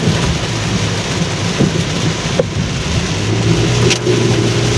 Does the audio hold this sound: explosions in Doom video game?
no